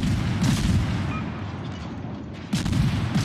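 Destroyer main guns firing high-explosive shells in the naval combat game World of Warships, a rapid series of heavy booming shots with dense low rumble, loud and continuous with a fresh burst near the end.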